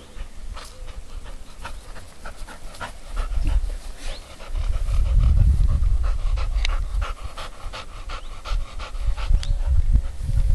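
A female hunting dog pants steadily and close after finding a bird, quick breaths continuing through with faint buzzing and rustling in the background.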